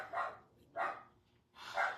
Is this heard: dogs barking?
yes